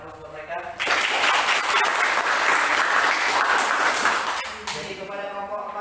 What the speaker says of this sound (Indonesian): kita berikan aplaus buat mereka